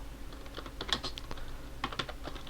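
Keystrokes tapped out on a computer keyboard while entering a Rails generate command, a quiet run of irregular clicks with a few sharper key presses, no talking.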